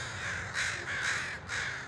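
Several crows caw in loud, repeated bursts, about three harsh calls spaced across the moment, clear and close with a steady outdoor background beneath them.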